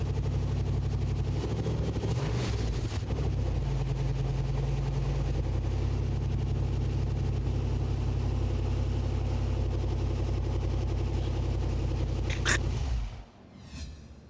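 Engine of a custom-built 4x4 off-road vehicle running loud and close, a steady throaty roar with a rise in revs early on, holding strong before cutting off abruptly near the end.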